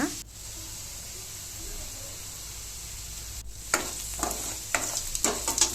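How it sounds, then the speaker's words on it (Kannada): Onions frying in a pan with a little salt added, a steady close sizzle for the first few seconds, then a run of sharper scraping stirs and crackles toward the end. "ಈರುಳ್ಳಿ ಎಲ್ಲ ಚೆನ್ನಾಗಿ ಫ್ರೈ ಆಗಬೇಕು"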